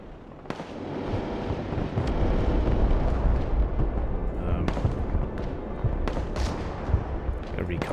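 Tank gunfire and explosions in the video game Broken Arrow, a dense, loud rumbling barrage with several sharp cracking shots punching through.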